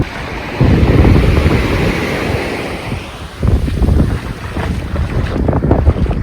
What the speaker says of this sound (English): Listen to the surf there.